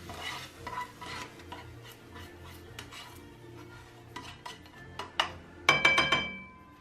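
Roughly chopped tomatoes tipped into a pan and stirred with a utensil, giving irregular scraping, tapping clinks and light sizzling that build toward a loud burst of sharp metallic clatter near the end, with no voices.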